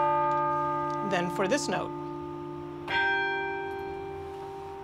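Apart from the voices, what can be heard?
church chime bell struck by clapper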